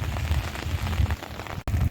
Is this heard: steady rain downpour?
yes